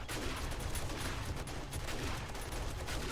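Dense, continuous gunfire during a horde night in the survival game 7 Days to Die, with shotguns, turrets and machine guns firing in a loud, unbroken barrage of overlapping shots.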